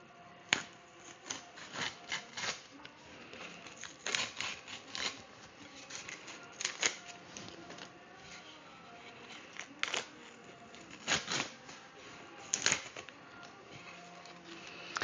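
Painter's tape is peeled off a UV-printed wood plaque in short, crackly tearing bursts, repeated irregularly at close range against a quiet background.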